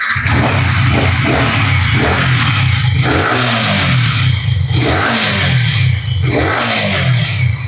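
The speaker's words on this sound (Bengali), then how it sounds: "আচ্ছা বাইকের সাউন্ডটা দেখা একটু" A second-hand motorcycle at a used bike market running close by, a loud, rough, continuous engine drone with a few throttle swells and no talking.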